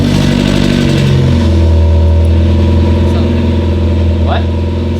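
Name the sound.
Mazda Miata engine revving with new headers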